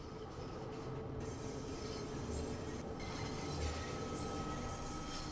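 London Underground Bakerloo Line train in Train Sim World 4 accelerating, a continuous rumbling roll of wheels on rail with a steady motor whine and faint squeals, even and unbroken throughout.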